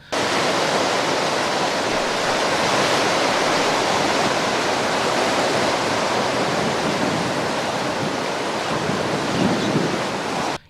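Floodwater gushes downstream from a dam on the Godavari river as a loud, steady roaring rush of water that continues unbroken throughout.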